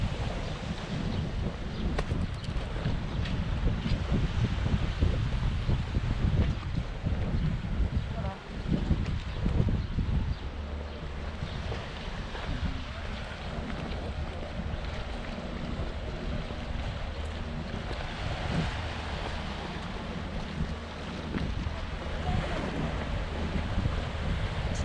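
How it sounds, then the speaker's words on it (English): Wind and distant sea sound off Camp de Mar, Mallorca, with a few boats out on the water, heard as a steady broadband rush and low rumble, with heavy wind buffeting on the microphone throughout. "One or two boats out on the sea."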